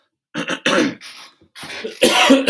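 A few short, harsh coughs and throat-clearing bursts close by, separated by brief pauses, ending with a louder, rougher cough.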